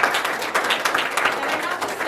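A live audience claps and applauds during a speech on Oregon's statewide housing plan, a steady, dense patter of hands filling the room for about two seconds with murmured voices mixed in.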